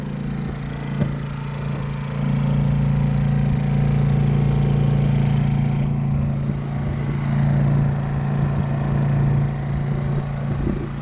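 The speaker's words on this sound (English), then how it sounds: "that generator is not even loud enough to keep Nelson awake." A steady mid-pitched engine drone from a small 200-watt generator on a sailboat hums continuously throughout, fairly loud and even, with no talking.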